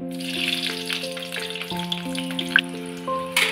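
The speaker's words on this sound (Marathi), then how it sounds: "चला तर आता आपण मिरची फ्राय करूया।" Green chillies fry in hot oil in a pan, a continuous soft sizzle and crackle. Melodic background music plays over it, with a couple of sharper pops near the end.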